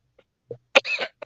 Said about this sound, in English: forgive me for the cough, y'all.